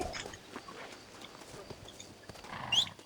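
Horse hooves in the video game Red Dead Redemption, a soft, fairly faint clip-clop of walking hooves under low game ambience.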